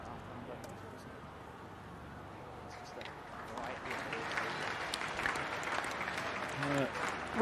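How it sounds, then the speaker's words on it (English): A crowd at an Ireland v England Six Nations Under-20s rugby match gives a light ripple of applause that swells midway and carries on under a commentator's talk. "Ripple of applause around the ground."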